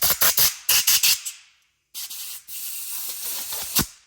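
Carburetor cleaner sprayed onto a Honda Ruckus scooter carburetor outdoors: a quick run of short hissing bursts, a pause, then one long steady spray ending with a brief louder puff, close and loud.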